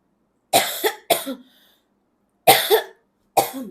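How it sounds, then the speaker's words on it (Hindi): A woman coughs in four separate bursts, two quick double coughs close together followed after a pause by two more, loud and close against a silent background. "खांसी हो रही इसे"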